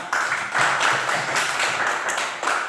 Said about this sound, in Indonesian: Sekali lagi semua tepuk tangan ya.